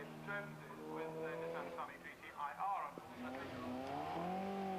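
A Lotus Elise race car speeds past at Crystal Palace circuit, its engine note rising and shifting over roughly five seconds beneath continuous commentary.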